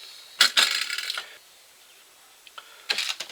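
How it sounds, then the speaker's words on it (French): Metal parts of a roller conveyor are hammered into place: a few sharp, bright strikes cluster together, then a pause, a couple of faint taps, and another burst of blows. "Et vous enfoncez tout ça au marteau."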